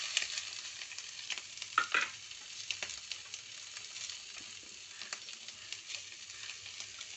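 Vegetables frying lightly in a pan for fried rice, a quiet sizzle with occasional scrapes and clinks of stirring, fairly faint and close, no voices.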